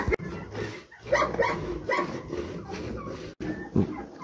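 A dog in an outdoor enclosure barks and yips in short repeated bursts, fairly close, with some whimpering sounds mixed in and steady background noise.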